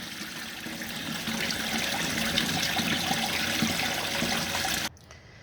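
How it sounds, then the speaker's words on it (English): Chicken feet being washed with lime under running water, a steady broad splashing rush of tap water and sloshing that carries on, slightly stronger midway, then cuts off abruptly near the end. "Wash it with lime to cut the rawness. Make sure it's washed thoroughly."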